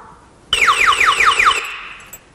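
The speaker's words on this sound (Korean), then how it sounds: "이 경보음은 볼륨 조정이 안 되게끔 설계되어 있어서 무조건 최대치로 음량이 나타나기 때문에 도난 방지에 좀 효과적입니다" An anti-theft alarm built into a product, triggered by tilting past 45 degrees or removal, blares at fixed maximum volume. About five rapid, piercing descending siren sweeps burst in loudly and close, then cut off.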